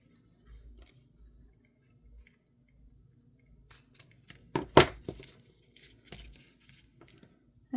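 Scissors snip through the ends of a handmade craft shaker tag in a few quiet, close cuts clustered in the middle, with soft rustling around them.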